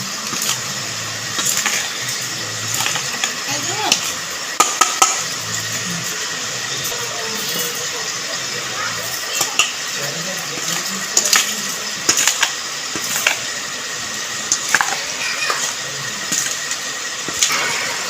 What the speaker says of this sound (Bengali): এবার নেড়ে ছেড়ে সব কিছু একসাথে মেখে নেওয়া হচ্ছে।